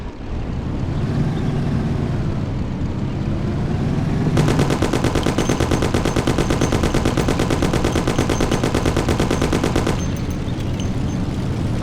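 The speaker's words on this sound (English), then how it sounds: "Take my Thompson. You and Sam shoot them." Sustained rapid automatic fire from a Thompson submachine gun in the Mafia PC game, a dense unbroken burst lasting several seconds over a rumbling vehicle engine, loud and close.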